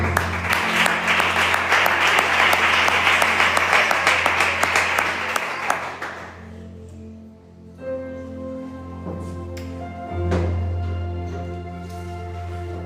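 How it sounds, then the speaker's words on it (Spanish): Church congregation applauding the Lord during a Spanish-language sermon, a dense wash of clapping for about six seconds over steady low music, then fading to the soft instrumental backing alone. "Dar un aplauso al Señor"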